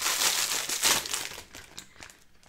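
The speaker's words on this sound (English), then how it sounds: "Sorry, I hope this rustling isn't too bad on the mic." Plastic packaging from an online shop haul crinkles and rustles close to the microphone in busy bursts, louder at first and then thinning to scattered softer crackles.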